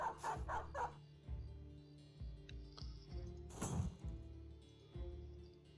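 A dog in the Battle Brothers video game barks in a quick burst of several yips, followed by scattered single barks and whimpers over a low background rumble.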